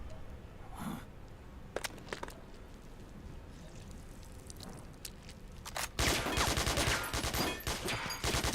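Gunfire in Metal Gear Solid 4 crackles as scattered distant shots early on, then a loud dense burst of rapid automatic fire takes over at the end, with no speech.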